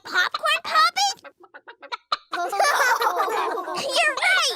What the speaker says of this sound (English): Is it the sound of a chicken or a sheep? A chicken.